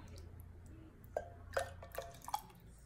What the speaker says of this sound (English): I'm gonna get a ladle and put some juice in here.